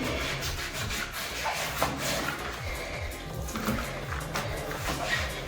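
Someone wipes a wet stainless steel surface dry with quick, repeated rubbing strokes, a close, steady swishing friction sound with no talking.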